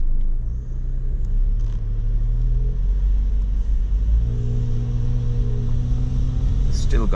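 A car engine idles with a low, smooth rumble close by, shifting slightly in pitch, while voices talk over it.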